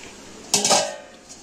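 A metal lid set down on a cooking pot of steaming kothimbir vadi, a sharp clank followed by a short rattle as it settles, close and distinct.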